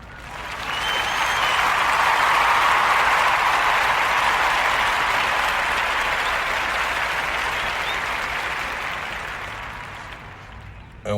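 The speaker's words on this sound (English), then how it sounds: "And we're going to give him a round of applause." An audience breaks into a warm round of applause that swells quickly, holds as a dense wash of clapping, then slowly fades out.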